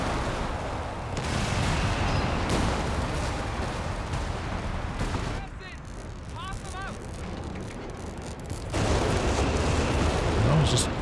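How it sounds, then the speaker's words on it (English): Dense, rumbling artillery barrages and scattered gunfire in a Company of Heroes 3 4v4 team battle, loud and continuous, easing briefly midway before swelling again, with a voice talking over parts of it. "Just a lot of artillery in the middle, bodies flying around"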